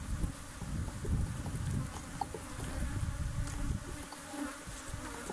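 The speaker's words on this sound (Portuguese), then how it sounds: "Ela sempre foi uma abelha defensiva." Defensive bees buzz continuously around a small honey harvest, a dense close insect drone with wind noise brushing the microphone.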